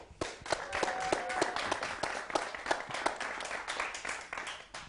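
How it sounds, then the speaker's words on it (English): Studio audience applauding at a talk show, dense steady clapping from a crowd with some louder individual claps standing out, holding for the full stretch at moderate level. "Big round of applause"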